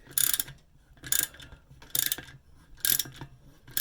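Ratchet tightening the threads of an old pressurestat tube, four evenly spaced bursts of rapid clicking pawl strokes close up, each about half a second with quiet pauses between.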